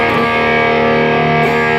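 A heavily distorted guitar note sustains loudly through an effects pedal, shifting pitch briefly, with a steady hiss underneath.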